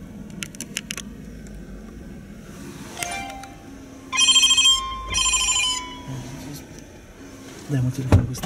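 A mobile phone ringtone plays in two loud electronic bursts midway, heard over room noise and background voices during a tense encounter with police debt collectors.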